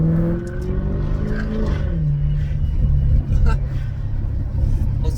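Maserati GranTurismo S fitted with a Larini back box exhaust rumbles and revs nearby while driving, the engine note dropping then settling into a steady drone, with a person talking over it throughout.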